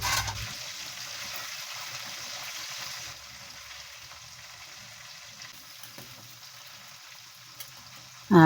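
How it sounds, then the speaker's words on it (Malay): A pot of tom yum soup with prawns simmering with a soft, steady bubbling hiss, quiet and continuous, ending with a brief clatter. "Biarkan mendidih, biar udang tu masak ya."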